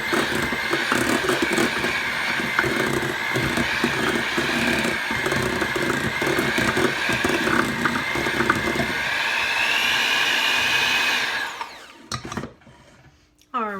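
An electric mixer creams a softened stick of butter for cream cheese frosting, a steady loud whirring drone with rattling against the bowl that runs for about eleven seconds before cutting out into a few clanks.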